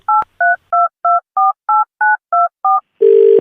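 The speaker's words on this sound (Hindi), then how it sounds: "फोन मिलाओ।" Nine short two-tone telephone keypad beeps in a steady rhythm, followed by a longer, buzzier tone at the end, clear and close with no talking.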